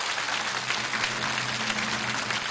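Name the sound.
audience applause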